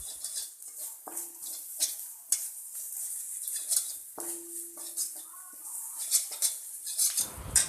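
Chopped onions sizzle in a pan while a utensil scrapes and clinks against the metal in irregular stirring strokes, close up.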